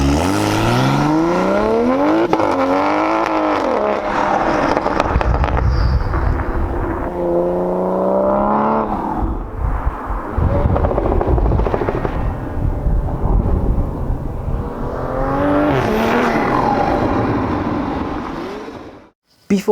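A 600 HP Toyota GR Supra with a ZF 8-speed gearbox, its intake roaring loud and close as it accelerates hard through several rising sweeps and gear changes for nearly twenty seconds before cutting off.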